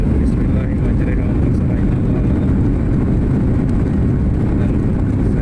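Sriwijaya Air airliner accelerating down the runway for takeoff, heard from inside the cabin as a loud, steady low roar of engine and rolling rumble that holds throughout.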